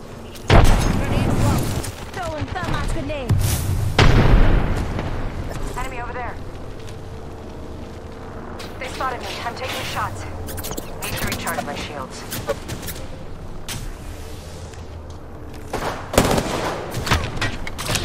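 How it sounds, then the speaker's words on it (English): Gunfire in an Apex Legends-style battle royale match played as Lifeline, with heavy bursts and booming shots up front and again near the end, scattered rapid fire between, under frequent voice lines and talk. "Getting shot at."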